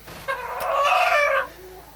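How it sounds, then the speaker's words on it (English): A rooster in a chicken coop gives one clear, close crow of about a second, with faint clucking just before it. "I've got 4 roosters in here right now, and they're not really getting along"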